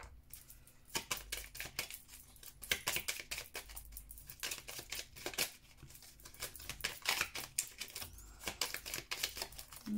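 A deck of oracle cards is shuffled close up, with rapid bursts of papery riffling clicks and flutters repeating in quick irregular waves.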